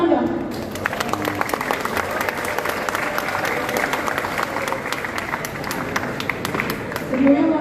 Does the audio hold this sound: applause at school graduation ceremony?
yes